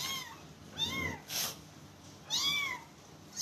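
A kitten meows close by in several separate rising-and-falling calls, with quiet pauses between them and a short rustle in between.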